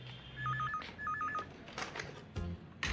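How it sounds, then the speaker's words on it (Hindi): A telephone rings in two short electronic warbling bursts, fairly clear indoors, followed by brief clatter and handling noises with no talking. "दिनेश गांधी का फोन है"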